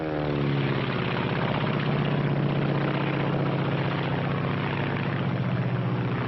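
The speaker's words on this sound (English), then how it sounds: "This is the Japanese Zero." The engine of a Japanese Zero fighter plane drones loud and continuous, a steady propeller roar with a low pulsing hum and no variation or voices.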